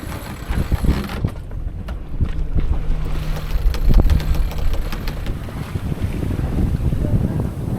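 A sailboat sailing off its anchor in a breeze near Loreto, Baja, carries steady wind and water rush, with hull and rigging creaks and occasional knocks under the continuous broadband noise throughout.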